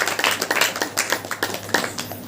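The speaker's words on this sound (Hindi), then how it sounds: "ताली बजाकर धन्यवाद।" A congregation at a Hindi church prayer meeting claps in a quick, continuous patter for about two seconds, with fairly close, crisp hand claps of uneven rhythm.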